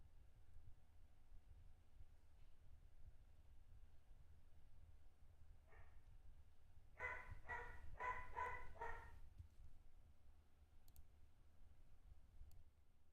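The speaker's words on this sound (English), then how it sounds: "Hear the dog" A dog barking several times in a quick cluster, faint and distant under a steady low background hum, preceded and followed by light clicks.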